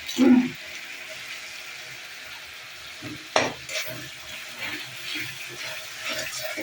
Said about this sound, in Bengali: ভাজা হয়ে গেল, মশলাটা পুরো কষানো